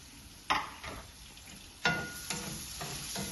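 Jackfruit pieces fry in a pan with a soft, continuous sizzle, broken by several sharp scraping stir strokes spaced a second or so apart, with no talking.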